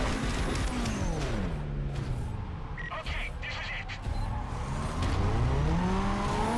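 A race car engine in Need for Speed Carbon revs and sweeps up and down at a launch, loud and close, pitch climbing and falling with the shifts, with a voice talking over it.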